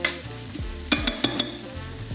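Onions frying in a pan for garlic shrimp pasta, a steady close sizzle broken by a few sharp scrapes and clinks of a utensil stirring against the pan.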